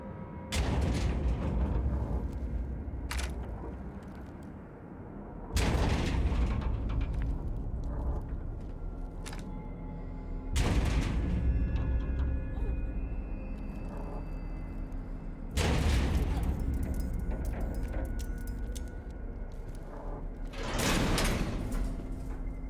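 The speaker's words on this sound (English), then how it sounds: "The door locks and some concerning banging can be heard while we read a creepy note." Heavy, loud banging on a locked door in a horror video game's prison setting, coming in five booming bursts spaced a few seconds apart, each ringing out over a constant low, rumbling ambience.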